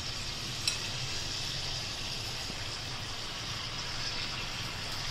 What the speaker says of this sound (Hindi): अभी अपना तेल गरम हो गया, अभी ये ऐसे फिश इसमें छोड़ देने के